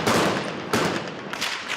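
Sniper gunfire in an urban street battle: two or three sharp, loud cracks about three-quarters of a second apart, each followed by a ringing echo off the buildings.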